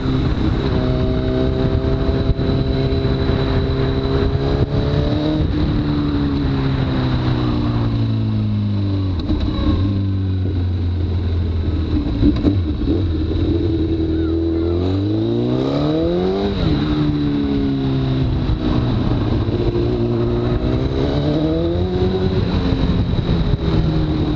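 A Honda CBR1000RR motorcycle engine fitted with a BoosterPlug runs loud and close for the whole stretch, its pitch rising and falling as the revs climb and drop in smooth sweeps, with no speech over it.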